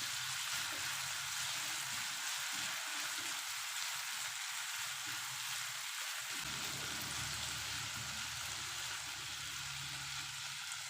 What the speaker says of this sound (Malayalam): നമുക്കൊന്ന് തുറന്നിട്ട് ഇതൊന്നൊന്ന് ഇളക്കിയിട്ട് കൊടുക്കാം.